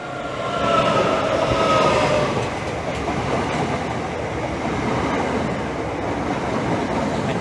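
A Thameslink Class 365 electric multiple unit passes Hitchin station on the East Coast Main Line at speed, a loud close rumble and rattle of wheels on rails that peaks early, then holds steady.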